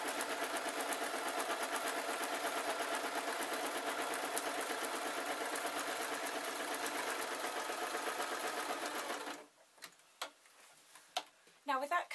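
A sewing machine runs a plain running stitch around the edge of a fake lamb's fur cushion, a fast, even mechanical whirring and ticking for about nine seconds, then stopping, followed by a few faint handling clicks.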